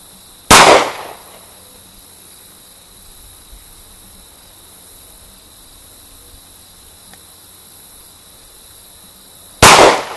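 Two sharp, loud pistol shots from an FMK C1 fired at milk jugs and a cola bottle, one near the start and one at the end, separated by a long stretch of faint outdoor quiet.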